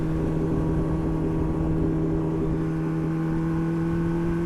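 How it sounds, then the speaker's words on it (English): A steady loud engine drone with a fixed tone and constant rumble, heard from a motorcycle while a moped is nearby on the road, with no clear pass-by swell. "Oh my god, a moped."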